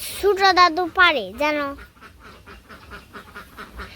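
Ducks quack in a short burst of three or four loud, nasal calls near the start, followed by a softer, murmuring tail of faint sounds.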